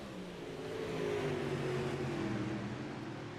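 Modified stock cars of the Lonestar Modified Series race around Husets Speedway, a steady engine drone that swells slightly and holds, heard from a distance without talk.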